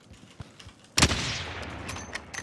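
A single sharp gunshot in the video game Call of Duty: Warzone cracks out after a quiet stretch, followed by a lingering rumble and a few faint distant pops.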